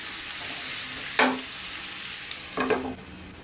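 Mushrooms fry in a pan with a steady broadband sizzle, broken by two short bursts of stirring or scraping about a second apart, with no voices.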